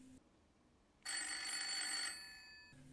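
A telephone bell rings in a film scene, one clear electronic ring burst of about a second, bright and fairly close over a quiet background.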